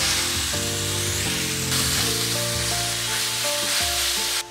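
Pork sizzles loudly and steadily in a hot stir-fry pan while moo shu pork is cooked in batches, a continuous close frying hiss with soft background music and no speech.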